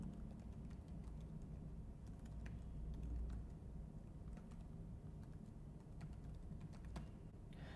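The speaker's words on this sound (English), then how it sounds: "I'll type some email ID here." Quiet keyboard typing as an email address is entered on a computer, a faint run of light key taps over low steady room hum with no talking.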